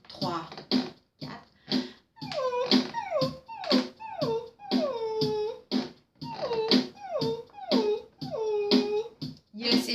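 People voice dog imitations during a group singing improvisation exercise, a run of rhythmic barks, yips and whining howls, loud and close, repeated in bursts with brief gaps.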